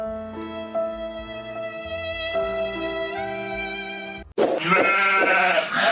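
A phone ringtone plays a tonal melody, then a loud bleating sheep sound cuts in abruptly near the end, close and clear.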